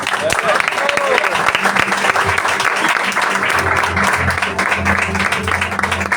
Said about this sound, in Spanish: Un fuerte aplauso a Dios.